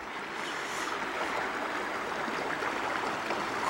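The Coonamesett River flowing toward the ocean gives a steady, soft rushing hiss of water, even and continuous at moderate distance, with no talking.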